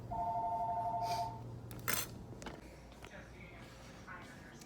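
A phone rings from an incoming spam call: a steady electronic ringtone tone at the start, then a clatter and indoor room noise, with a voice talking quietly afterward.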